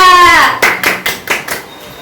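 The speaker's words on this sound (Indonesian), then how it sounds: "Kasih tepuk tangan dulu untuk Arya" A brief burst of a few hand claps from students in a junior high maths classroom rings out just after a short voiced sound, coming as separate close, sharp hits.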